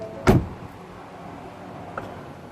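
The power mirrors of a Ford F150, set to fold automatically on locking, give a sharp thump followed by a faint, brief mechanical sound a moment later, with no voices.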